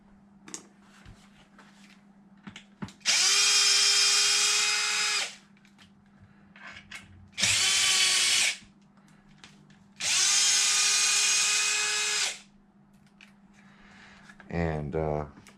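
Power drill removing bolts on an Arrma Outcast 8s RC car, three loud close whirring runs of about two seconds each with short pauses between, ending with a brief stuttering burst, over a steady low hum.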